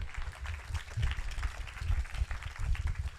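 Audience applause at a talk, a steady patter of clapping filling the hall for a few seconds without a break.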